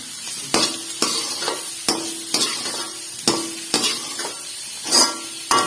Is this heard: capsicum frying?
yes